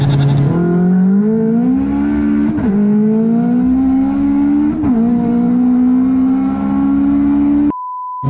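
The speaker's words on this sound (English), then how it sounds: "This thing cruises surprisingly sweet on the highway" A turbocharged Honda Civic cruising on the highway at about 4,000 RPM, its engine drone steady and loud with two brief dips as revs shift, ending in a short electronic beep.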